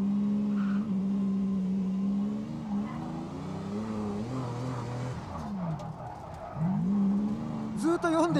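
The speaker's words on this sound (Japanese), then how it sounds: "もう低速でもね3に入れてそんなに回転上げずともねこうやってドリフト可能ですよ" A drift car built on a Silvia body with Toyota internals holds a steady engine drone in third gear while its tires squeal and scrub through a long slide, the pitch rising near the end, with someone talking over it.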